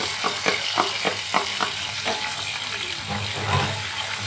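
Butter sizzles and melts in a pan as the base for a barbecue sauce for chicken. A steady frying hiss runs under a series of soft, regular stirring scrapes, close and moderately quiet, with no talk.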